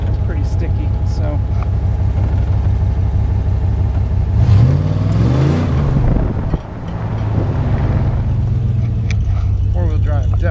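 A Ram 4x4 pickup truck with a repaired four-wheel-drive actuator pulls away hard, its engine roar rising loud from inside the cab with wind rush and a voice talking over it.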